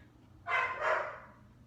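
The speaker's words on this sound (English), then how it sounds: "Dumbass dogs." A dog barking, two quick close barks run together into one short burst that fades.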